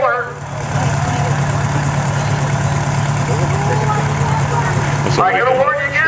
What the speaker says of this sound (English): This is what you call a two-stroke diesel.